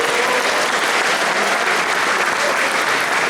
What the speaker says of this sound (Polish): Dajcie mu duże brawa, wsparcie.